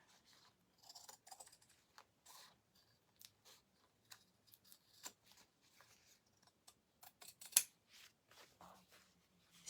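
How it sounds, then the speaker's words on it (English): Scissors cut through denim along the yoke of a jeans fanny pack, a series of faint, close snips and rustles spaced irregularly over the whole stretch. "We're going to cut along the bottom of the yoke and make that go away."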